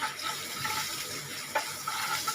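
Water is poured into a cooking pan on a stove while making wheat rava idli, a steady splashing gush that is close and moderately quiet, with no talking.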